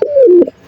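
A male pigeon sitting on eggs gives a single close, clear coo, one smooth falling tone lasting under half a second, followed by a brief softer note.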